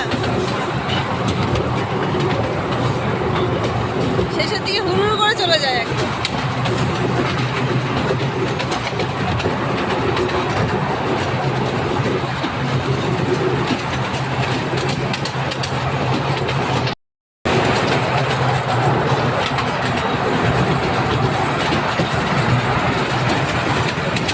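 Train riding on rails, heard from onboard as a continuous low rumble and rattle with a steady rhythmic clatter that runs the whole way, broken only by one brief dropout.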